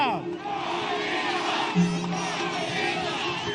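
A large rally crowd keeps up a steady roar of shouting and cheering, with many overlapping voices and one louder shout breaking through briefly.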